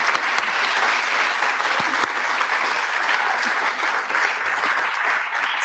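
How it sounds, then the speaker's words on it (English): Sustained audience applause fills a hall after a talk at an academic session, a dense, steady wash of many hands clapping at even loudness throughout. "A round of applause."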